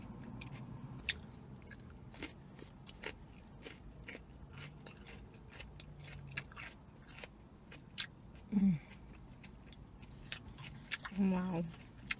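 Celery and a toasted tomato sandwich are chewed close to the mic, with repeated crisp bites and crunches in a steady rhythm and a few louder bursts near the end.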